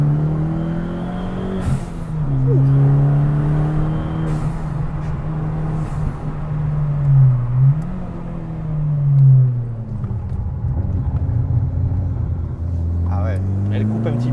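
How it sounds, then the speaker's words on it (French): A Fiat Punto Abarth engine drones steadily from inside the cabin with windows open, intake noise prominent, its pitch rising and falling with throttle changes, while a person talks over it. "Et l'admission, c'est vrai qu'on l'entend."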